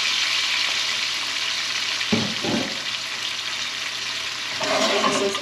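Thawed shrimp with lemon and salt fry in a pan with a continuous loud sizzle, stirred now and then, with brief crackling surges.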